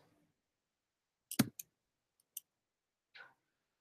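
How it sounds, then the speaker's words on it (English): A few sharp, isolated computer mouse clicks in a quiet room, one louder double click followed by fainter single clicks spaced apart. "As soon as I click paste"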